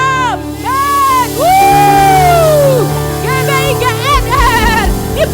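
Church congregation at an Ascension service shouting and cheering together, a loud sustained crowd roar with rising whoops and cries swelling over organ-like sustained music.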